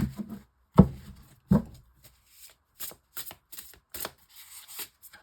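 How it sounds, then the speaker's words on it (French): A tarot card slides and snaps as it is drawn from the deck during a reading, with a couple of sharp card slaps up front followed by several lighter shuffling flicks and taps, close and fairly quiet. "Et je vais prendre une dernière carte qui correspond pour clôturer ce tirage."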